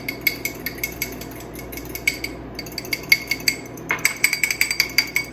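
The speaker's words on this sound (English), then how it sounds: "And I'm just going to whisk those together." A whisk clinks rapidly against a bowl while oil and lemon juice dressing is beaten together, making a quick, steady run of close metallic taps with no talk over it.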